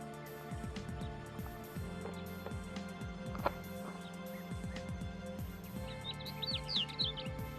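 Thekla's lark at Cabranosa near Sagres, Portugal, singing with a run of thin high chirps and trills, loudest near the end, over a steady busy background of other birds and low tonal hum.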